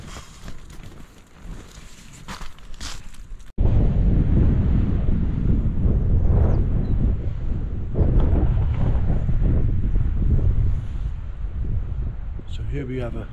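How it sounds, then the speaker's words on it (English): Strong wind gusting across an exposed mountain wild campsite in the Carneddau, roaring steadily into the microphone with heavy buffeting after a quieter opening stretch. "Wind is gusting in."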